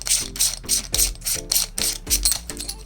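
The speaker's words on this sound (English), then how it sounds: "you simply unscrew this section right here" Adapter section being unscrewed from an airsoft tracer unit, a quick series of clicking, ratcheting thread turns repeating in a steady rhythm, close and fairly loud with no talking.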